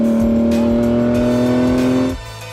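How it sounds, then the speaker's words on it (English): Ford GT sports car on California canyon roads, its engine holding a loud, steady droning note up close before the sound drops away sharply near the end. "we have a Ford GT carving through California's canyon roads"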